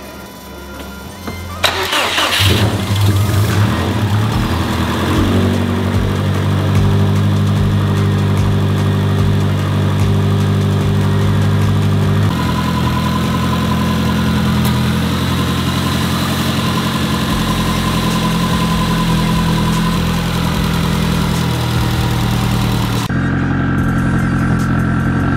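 A Subaru WRX with a swapped-in STI engine cranks and fires up, then settles into a steady, loud idle that holds for a long stretch with a slight shift in tone partway through.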